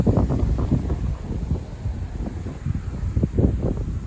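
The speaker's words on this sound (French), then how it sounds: "Là, ça commence à être sympa, le vent de sud." A strong south wind gusts through trees in the first gale of the season, a steady roaring rush with irregular louder buffets and heavy rumble against the microphone, no voices.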